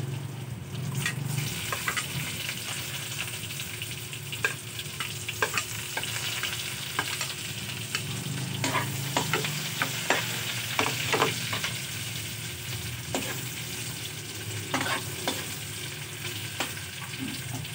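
Garlic and onion sautéing in a pan for chicken apritada, a continuous close, even sizzle with frequent scraping stirs and small clicks of a utensil throughout.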